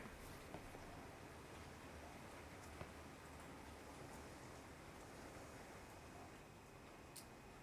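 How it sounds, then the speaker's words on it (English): Rain falls steadily outside, a continuous soft hiss with even texture throughout and no voices. "it's raining again"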